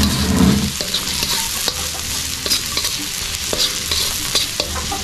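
Ginger and garlic sauté in hot oil in a pan, a loud, dense sizzle right up close with repeated scraping strokes of a spatula stirring through, no talking.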